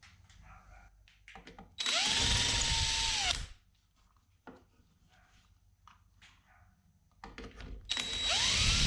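A power drill whirs loudly as it bores into wood, two separate bursts with quiet pauses between, the motor pitch rising and dipping under load.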